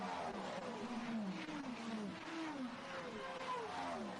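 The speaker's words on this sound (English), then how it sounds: "The varying noises of the engines going through, absolute quality." Race car engines pass one after another during the 6 Hours of Imola endurance race, rising and falling in pitch as each car sweeps through, a steady loud wash of engine noise throughout.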